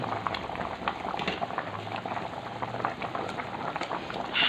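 Tom saep leng, a spicy Thai pork-bone soup, boiling hard in a pot, with close bubbling and popping and a steady churning roil throughout.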